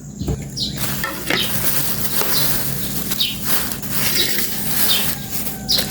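Milkfish (bangus) fries in a pan with a continuous loud sizzling hiss, broken by scattered crackles and pops throughout.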